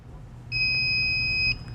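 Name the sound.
fire alarm panel trouble signal beeping, slow intermittent tone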